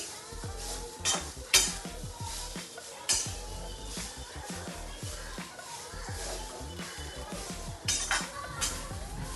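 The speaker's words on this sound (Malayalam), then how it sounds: "തേങ്ങ നന്നായി പൊരിഞ്ഞിടാം." Grated coconut roasting with turmeric in a pan, close and quiet, with a spoon or spatula repeatedly stirring and scraping against the metal pan over a soft, low sizzle.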